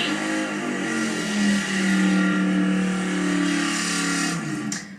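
A drag racing car engine roars steadily as it accelerates away down a quarter-mile strip at a Ford and Mustang event, loud and sustained, then fades slightly at the end.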